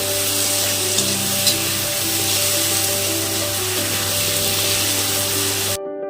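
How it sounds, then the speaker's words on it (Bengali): Taro leaves fry in a pan with salt, turmeric and green chilli, giving a loud, steady hiss over a constant low mechanical hum that cuts off near the end, with no talk. "হলুদ কাঁচা লঙ্কা খুব ভালো করে নাড়াচাড়া করে করে কচুর শাকটাকে ভেজে নিতে হবে"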